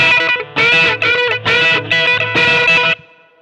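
A distorted electric guitar plays a fast tremolo-picked part with string bends on a riff, heard as several dense bursts of rapid notes, loud and close, ending abruptly.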